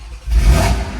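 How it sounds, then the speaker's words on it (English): A tuned BMW M340i xDrive cold-starts with a single loud, close burst: a quick crank catching into a sharp rev flare, then holding a high, rough idle. "That was a happy startup."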